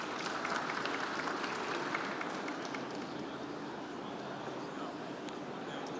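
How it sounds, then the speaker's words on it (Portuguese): Sustained applause from the audience at a Brazilian ports and airports conference, steady dense clapping filling the room for the whole stretch, with faint voices mixed into the crowd. "Receba os aplausos."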